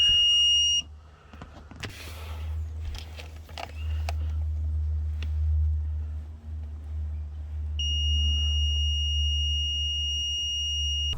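A steady high-pitched multimeter continuity beep sounds at the start, stops, then returns near the end, with faint handling noises and a low hum between.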